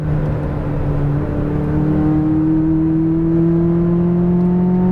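A McLaren 570S sports car drives on a track, its engine droning loudly and steadily with a slowly rising whine as it accelerates, heard from close by without talk.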